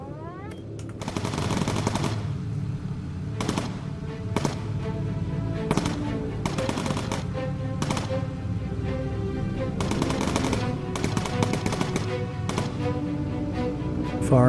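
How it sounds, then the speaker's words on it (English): Machine guns on a World War II–style bomber in Bomber Crew rattle in long continuous bursts, loud and close, with dense rapid fire running almost nonstop alongside steady engine drone and no talk. "Firing off at absolutely nothing. Maybe he was just testing his guns."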